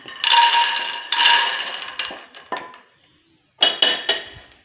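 Raw green chickpeas tumble into a hot pan for roasting, giving two loud clattering bursts that fade, a few smaller rattles, a short pause, then more sharp scattered clinks, close up with no talk.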